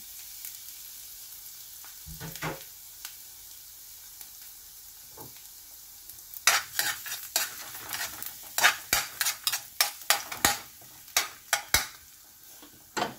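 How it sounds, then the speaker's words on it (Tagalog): Garlic dropped into a heated frying pan for omurice, a quiet sizzle followed by a dense run of sharp metallic spatula clanks and scrapes against the pan in the second half. "meron po tayong pinainit na kawali. So, ayan, ilagay po natin ang ating bawang."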